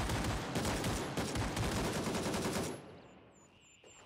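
Rapid automatic AK rifle fire in the video game Gray Zone Warfare, a dense, loud stream of shots for nearly three seconds before cutting off into quieter ambience.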